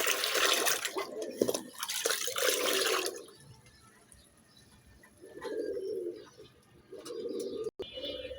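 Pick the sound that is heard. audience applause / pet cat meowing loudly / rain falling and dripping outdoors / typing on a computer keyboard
rain falling and dripping outdoors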